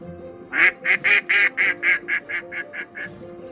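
A duckling quacks in a quick series of about a dozen evenly spaced, bright nasal calls, close and clear, fading slightly toward the end.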